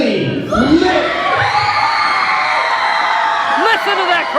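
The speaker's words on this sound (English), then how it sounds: "This crowd in Whitesville, West Virginia is electric." A wrestling crowd in Whitesville, West Virginia cheers and whoops loudly, with shouting voices rising and falling and excited children's yells mixed into the sustained roar.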